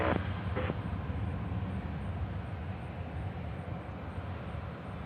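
A jet airliner rolling down the runway for takeoff at Nashville International Airport, a steady broad roar heard from a distance, continuous and unbroken, with a faint high engine whine over it.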